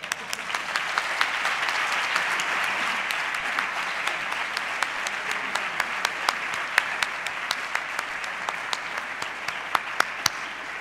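Sustained applause from an audience at a former students' reunion of a business school in Andalusia, steady and dense claps filling the hall for about ten seconds.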